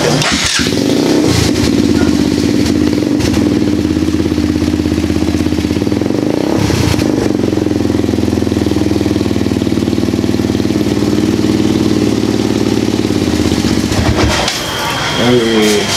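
A custom scrambler motorcycle with an aftermarket exhaust idles with a deep, throaty exhaust rumble, steady and close, with a brief blip near the end.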